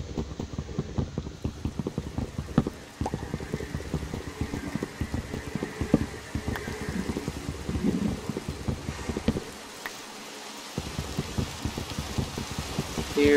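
Steady rain hisses across a Minecraft landscape as a storm sets in, with low rumbling thunder rolling underneath, broken by a brief near-silent gap before the downpour resumes.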